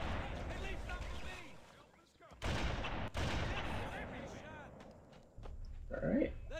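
Sniper rifle shots from the first-person shooter Halo: Combat Evolved, a few loud, sharp in-game gunshots mixed with game effects and background noise, with a voice talking over the action.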